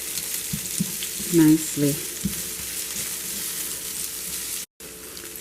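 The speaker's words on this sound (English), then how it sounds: "And you just want to stir it around so it cooks" Onions sizzle steadily in a hot pan while being stirred, with a few brief scraping knocks near and a short low voice remark partway through.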